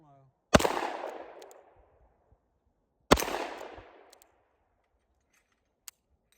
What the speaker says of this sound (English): Yep, just 6 shots.